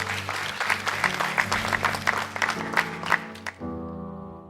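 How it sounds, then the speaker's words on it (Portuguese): A church congregation claps loudly for about three and a half seconds, then the applause stops and a sustained musical chord rings out. "Dê mais um aplauso bem forte a Deus."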